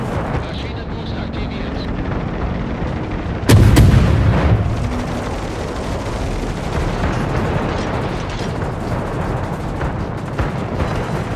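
Naval gunfire from a warship in World of Warships, a single heavy boom standing out sharply over steady game ambience and engine rumble, then fading into a continuous background roar.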